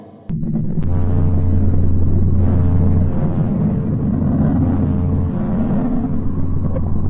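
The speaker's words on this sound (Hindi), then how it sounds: "Neptune sound." Neptune's converted space radio emissions heard as a loud, throbbing low drone with a sustained buzzing tone and sharp clicks at the start, rumbling steadily with no talking.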